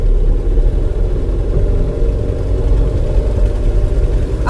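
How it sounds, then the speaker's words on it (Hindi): A car engine pulls in first gear, a loud, steady, low rumble that drones on without a break and with no talk over it. "अब देखिए ये फर्स्ट गियर में चल रही है, इसका एक इसका साउंड देख लीजिए आप"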